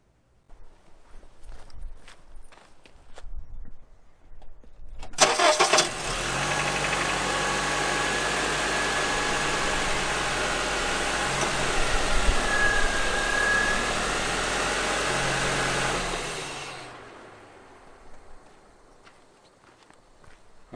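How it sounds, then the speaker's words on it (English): A car boosted by an Imazing 2000A emergency jump starter cranks and fires near the five-second mark, then settles into a loud, steady idle for about twelve seconds before shutting off, with faint handling noises before and after. "and then we can start the car."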